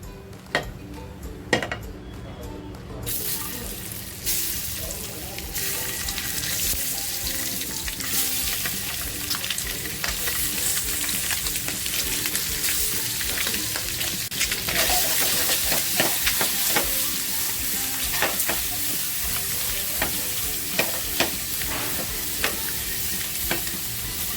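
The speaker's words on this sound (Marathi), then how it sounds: "थोडंसं तेल टाकते आणि ही जी अंडी तिखट मीठ लावलेली आहेत ही अंडी फक्त मी फ्राय करून घेते" Eggs coated in chilli and salt fry in a little oil in a pan, a steady close sizzle with intermittent scraping and clinks of a utensil against the metal, continuing throughout.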